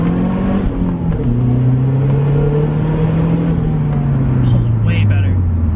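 A car launches from a stop in second gear at 3000 RPM after a rear motor mount install, the engine drone climbing steadily in a long, loud pull, heard from inside the cabin.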